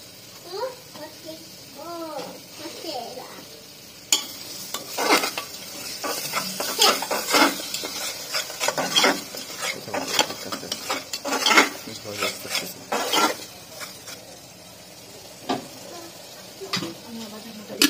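Beef masala with ginger and garlic paste sizzles in a pan while a metal spoon stirs and scrapes against it in irregular strokes, and a voice talks over the cooking at the start.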